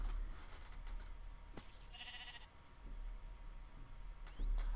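Sheep bleating in a Minecraft-style survival video game, a single short synthetic bleat standing out over a quiet, steady game background with no talking.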